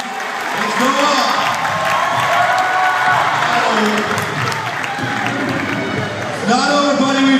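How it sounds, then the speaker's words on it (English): Crowd at a CrossFit European Regionals competition cheering and applauding loudly and continuously, with an announcer's voice talking over the noise throughout. "Everybody out here cheering for you guys."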